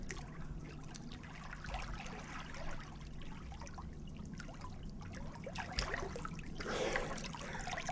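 Freestyle flutter kick by a swimmer, a steady run of close watery splashing and trickling with a brief burst of heavier churning near the end.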